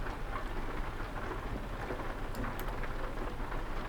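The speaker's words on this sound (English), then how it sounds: "It's been raining quite a bit in this game." Steady, dense rain in Euro Truck Simulator 2 while driving a MAN truck, a constant close hiss with a low rumbling undertone throughout and no talking.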